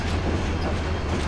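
A train picks up speed leaving Kamalapur railway station, a dense continuous rumble and rattle of wheels and carriages heard from on board, steady and loud.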